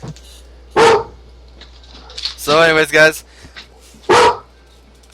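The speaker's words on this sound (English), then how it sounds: "Oh, the dog's barking." A dog barks in three loud, separate bursts near the microphone, the middle one a longer run of rapid barks, with people talking casually between and around them indoors.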